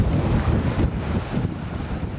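Strong sea waves surge and crash steadily off a remote rocky island during seaweed harvesting, a dense roar under gusting wind noise with no break.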